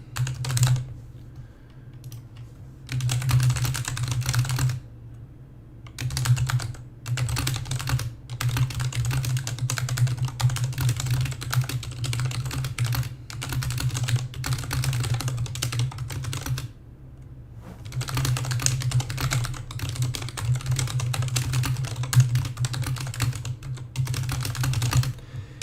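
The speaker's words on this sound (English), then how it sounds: "you can type that fast if all you do is sit at a computer for years and years and years" Rapid, continuous typing on a computer keyboard during a live stock market analysis session, dense close clatter in long bursts with brief pauses and a steady low hum underneath.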